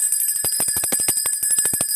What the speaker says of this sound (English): I'm going to ring that bell.